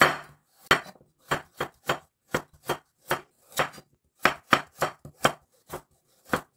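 A knife chops napa cabbage on a cutting board in a home kitchen, a steady run of sharp, close percussive strikes in irregular clusters, with no talking.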